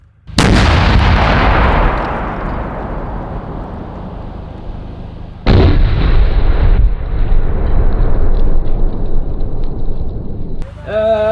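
Two heavy blasts from a shaped explosive charge set against a reinforced concrete wall element: a sharp loud boom decaying over seconds, then a second boom followed by rumbling debris, heard outdoors with no speech.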